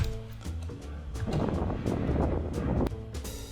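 Wind buffeting a microphone on a recorded audio track, a rough low rumble that swells and gusts throughout, loud and close, with a faint tonal hum underneath.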